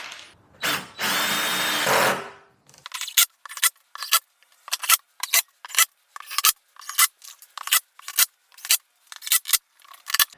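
A power drill drives number 8 construction screws into a homemade circular saw track guide: a brief whine and rattle, then a rapid series of short, close bursts of screwing and clicking.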